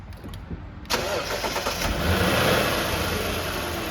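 A Lexus LS460 engine starts after a serpentine belt replacement, a short crank catching into a steady, moderately loud idle that keeps running close by.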